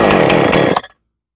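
Husqvarna chainsaw fitted with a new carburetor sputters into a loud, close, rough burst of engine noise for under a second, then cuts out abruptly to silence.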